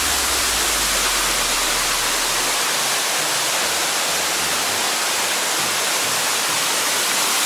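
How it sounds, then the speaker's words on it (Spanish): Waterfall cascades spilling into a hillside pool at Cerro Hueco in Chiapas, a steady, dense broadband rush of falling water that holds constant throughout, with a low rumble that drops away partway through. "miren cómo se hace varias cascadas bien bonitas"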